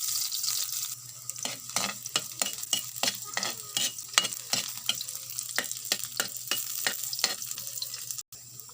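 Ginger or garlic sautés in a pan in a rural farm kitchen: a steady close sizzle broken by repeated quick scrapes and taps of a utensil stirring, with no talking, cut off abruptly near the end.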